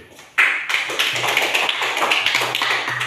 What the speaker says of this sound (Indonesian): Tepuk tangan untuk putra dan Jenny dulu